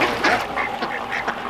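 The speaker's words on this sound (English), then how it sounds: "that is a weird looking duck" A duck quacks repeatedly in quick, raspy bursts, loud and close, filling the short stretch with no voices over it.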